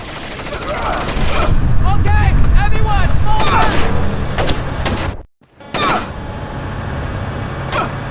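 Bursts of gunfire from the stealth video game Splinter Cell: Chaos Theory, with rapid volleys and sharp shots over a rumbling low background, then a brief dead gap and more scattered shots; someone talks over the action.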